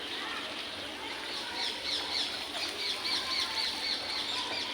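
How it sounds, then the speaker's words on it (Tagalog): A large flock of brown birds perched in trees near the seaside squawks and chatters continuously, a dense layer of overlapping shrill calls at moderate distance, with a voice speaking briefly. "Mga ibon yan."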